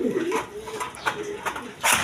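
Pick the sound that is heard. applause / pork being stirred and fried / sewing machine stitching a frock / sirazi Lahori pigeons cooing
sirazi Lahori pigeons cooing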